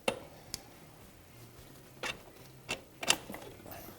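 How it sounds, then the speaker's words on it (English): A bolt being taken out of the lower shock mount on a Yamaha YZ250 during an engine rebuild, heard as a few quiet scattered metallic taps and clicks with a louder cluster near the end over a low hum. "Now we can remove the bolt from our lower shock mount."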